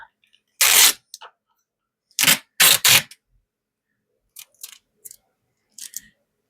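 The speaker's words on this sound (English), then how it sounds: "So now what I'm going to do is I'm just going to tape it up." Tape being pulled and torn while sealing a winter-sowing planter for herbs, several sharp ripping bursts close up in quiet, then a few fainter short crackles and snips.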